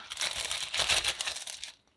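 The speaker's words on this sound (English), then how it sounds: "I like to cut the zipper top off just to make it easier to work with if it's a zipper top" Scissors cut the zipper top off a plastic sandwich bag, making a quiet, close crinkling and rustling of thin plastic that swells briefly and then fades to silence.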